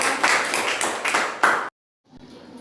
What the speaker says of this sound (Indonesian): silakan tepuk tangan dong buat Karlin